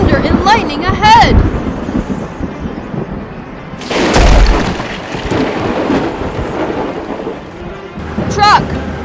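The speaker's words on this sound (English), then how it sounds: "Thunder and lightning ahead!" Thunderstorm sounds from a children's cartoon with a dinosaur and an excavator: sharp thunder cracks and a rolling rumble over constant rain, loud and near, mixed with excited animated voices and squeaky character sounds.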